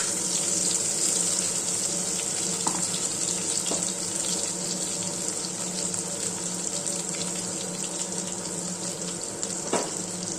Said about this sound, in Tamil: கொஞ்சம் வந்து மிக்சி ஜாரில் தண்ணி கலந்து ஊற்றிக்கலாம்